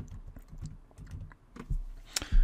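Keys on a computer keyboard tap in quick irregular bursts, close and fairly crisp, with a couple of louder clicks near the end.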